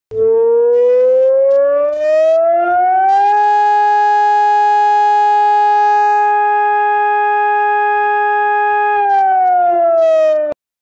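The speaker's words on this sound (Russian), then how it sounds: "Вот такой сигнал означает внимание всем." Civil defense warning siren sounding the 'attention everyone' alert during a flood emergency, a loud sustained wail that rises, holds a steady tone for several seconds, then falls again, with no voices.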